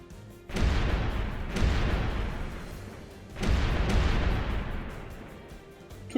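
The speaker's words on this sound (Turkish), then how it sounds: "Türk donanması Şimon'un üzerine top atışı başlattı." Cannon fire in a historical naval battle between the Ottoman fleet and crusader ships at Djerba: three heavy booms, each followed by a long rolling rumble that fades out.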